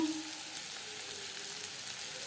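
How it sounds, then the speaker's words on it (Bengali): Chopped onion and turmeric sizzle in hot refined oil in a pan, a dense, even hiss that stays close and steady for a couple of seconds, with no talking. "এবার দিয়ে দেবো পেঁয়াজ কুচি আর লাগছে হলুদের গুঁড়ো"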